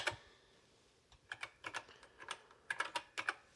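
Typing on a TRS-80 Model 1 computer keyboard, with close, crisp clicky keystrokes arriving in short irregular bursts separated by brief pauses.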